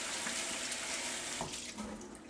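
Tap water runs steadily into a sink as raw chicken is rinsed under it, a continuous close splashing hiss with small shifts in flow and no talk.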